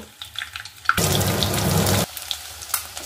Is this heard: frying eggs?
yes